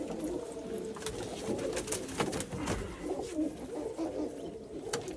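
Pigeons coo softly at a loft, a murmuring chorus of low calls mixed with faint chirps and rustling, steady and moderately distant.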